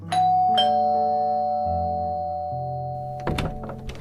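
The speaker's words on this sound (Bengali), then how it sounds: "গাড়ি থেকে নেমে দরজার পাশে কলিং বেলটা বাজালো।" An electric doorbell beside a house door plays a descending multi-note chime that rings out and fades, followed by a soft thunk near the end.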